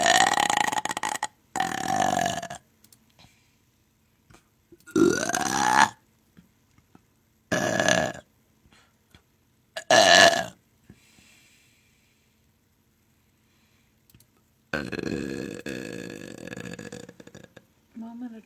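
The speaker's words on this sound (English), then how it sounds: "we did the alphabet burp race." A series of loud, separate burps comes in short bursts during an alphabet burp race, with pauses and brief laughter or voices between them.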